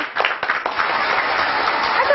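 A room full of people applauds at a music album launch, a dense patter of clapping that holds steady throughout.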